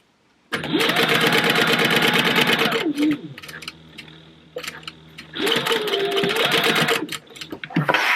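A sewing machine stitches a wallet in two long, loud runs of rapid, steady needle chatter, with a pause between them where the motor hum drops and a few isolated stitches are heard.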